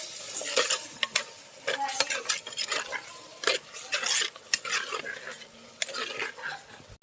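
Chicken curry is stirred in a pot with a metal spoon, busy scraping and clanking strokes against the sides over a light sizzle, close and fairly loud throughout.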